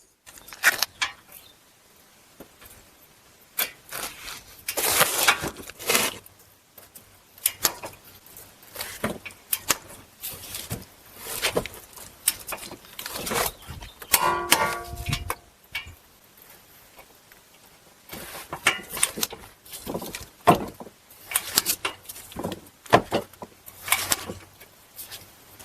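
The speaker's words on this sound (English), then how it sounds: "we're going to torque these to 140 foot-pounds" A torque wrench tightens brake bolts on a Chevy Equinox to 140 foot-pounds. Close metallic ratcheting and clicking comes in irregular bursts separated by quiet gaps, with occasional faint tool clinks and no speech.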